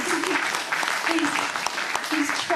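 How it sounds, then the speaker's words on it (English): An audience claps for a man honored for his vision and personal effort, a brief burst of dense applause with a voice speaking over it. "Give him a clap."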